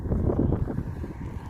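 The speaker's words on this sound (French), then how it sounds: "Bon, là il y a du vent" Wind buffeting a microphone outdoors by a roadside, a steady low rumbling roar that fills the whole clip with gusty fluctuations, close and fairly loud.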